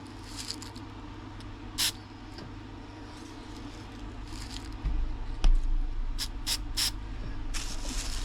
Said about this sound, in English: get yourself a little hobby spray paint and give it a couple squirts